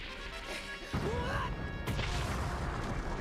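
A character in the One Piece anime smashes through an obstacle: a sudden heavy crash hits about a second in and is followed by a rumbling, debris-filled roar with a second impact shortly after.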